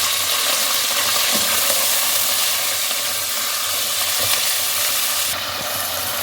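Hand-minced beef keema frying with onions in a pan gives a loud, continuous close sizzle with soft stirring and scraping sounds and no speech.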